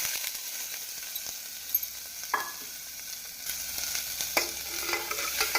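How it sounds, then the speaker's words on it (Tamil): Chopped onions frying in oil with fennel seeds for a minced-meat curry, giving a steady soft sizzle with a few sharp clatters of stirring, close and moderately quiet throughout. "சோம்பு பொரிந்ததும் நாம் நறுக்கிய வெங்காயத்தை போட வேண்டும்."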